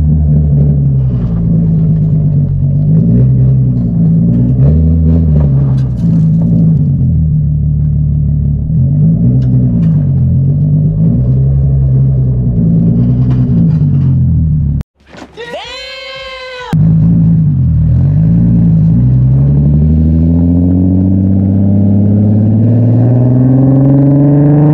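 Car engine fitted with a Tomei exhaust revving repeatedly, loud rising and falling exhaust tones in close succession, a brief high squealing burst midway, then a long climbing rev toward the end.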